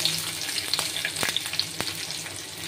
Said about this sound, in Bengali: একটু গরম মশলা ফোড়ন দেব, একটু দেব পেঁয়াজ সম্বারা